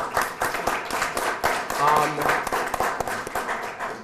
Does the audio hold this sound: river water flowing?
no